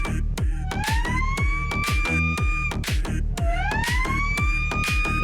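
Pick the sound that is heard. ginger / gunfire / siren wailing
siren wailing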